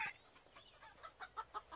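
Game chickens cluck in a short, close burst of repeated clucks in a fantasy video game, several quick calls near the end with no talk over them.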